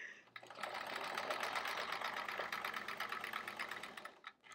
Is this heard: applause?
no